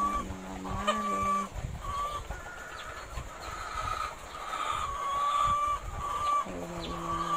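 Hens cluck and cackle repeatedly at close range, with drawn-out calls rising over a faint steady hum.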